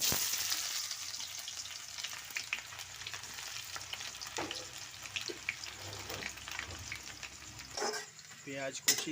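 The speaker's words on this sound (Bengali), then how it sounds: "তেল গরম হয়ে গেছে, এতে ফোড়ন দিয়ে দিলাম। ফোড়ন দেওয়ার পরে দিলাম পেঁয়াজ কুচি" Chopped onion goes into hot oil after whole spices for a village-style chicken dish, giving a steady frying hiss with stirring scrapes and a few clatters of utensils near the end.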